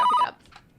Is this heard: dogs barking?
no